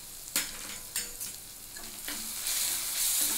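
Spices being stirred into capsicum and potato in a pan, with a sizzle that grows louder and several distinct scraping knocks of a spoon against the pan, close by and without speech.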